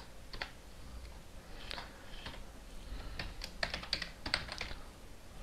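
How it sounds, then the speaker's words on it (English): Fingers typing code on a computer keyboard, with scattered keystrokes and short bursts of rapid clicks, close and moderately quiet over a faint room hum. "So let's type header."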